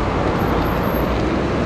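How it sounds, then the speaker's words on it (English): Road traffic passes close by, a loud, dense, steady roar of vehicles on the street lasting a brief moment, with no talk over it. "Whoa. Traffic?"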